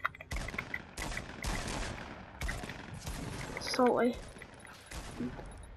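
Gunfire crackles from a distant battle in a video game: repeated volleys of sharp shots in irregular bursts, with one short spoken word partway through.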